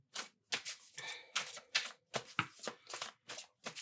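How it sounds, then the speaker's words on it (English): Tarot cards are shuffled in about a dozen quick, crisp riffles and slaps in a loose rhythm, close and fairly quiet, with no voice. "What I'm doing right now is shuffling to get more details."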